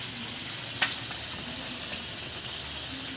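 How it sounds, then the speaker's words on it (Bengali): Skin-on chicken pieces frying in a little oil in a home kitchen, a steady low sizzle throughout with one brief sharp pop or clatter early on, no voices. "মাংসটা কিন্তু আমার কষে নেওয়া হয়ে গেছে।"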